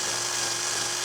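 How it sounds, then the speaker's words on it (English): A wire wheel spins steadily against rusty motorcycle foot pegs from a Harley-Davidson Sportster, producing a continuous, loud, high-pitched whirring and brushing whine at close range, with no pauses or voices. "I'm over here wire wheeling"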